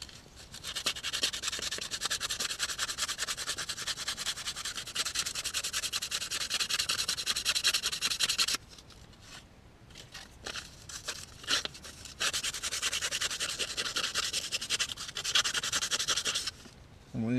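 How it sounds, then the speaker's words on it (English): A carved wooden spoon being sanded by hand with 120-grit sandpaper in a hot tent, a close, steady rhythmic rasping that pauses briefly midway, then resumes in short strokes before settling back into continuous rubbing. "Then I'll be ready to start sanding, I guess."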